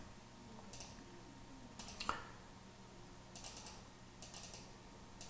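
Someone types on a computer keyboard in short separate bursts of quick light key clicks, with pauses between them, heard close and fairly quiet against a faint room hum.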